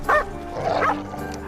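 A dog, apparently a police dog, gives a couple of short, close woofs and yips in quick succession, with a brief whimpering tone between them.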